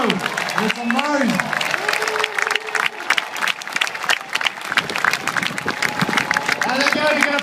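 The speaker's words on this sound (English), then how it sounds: "Give them a big round of applause, please." A crowd at Silverstone applauds the Toro Rosso Formula One drivers with loud, dense clapping and cheering. An amplified voice talks over it and a pitched tone sweeps underneath, with the applause continuing throughout.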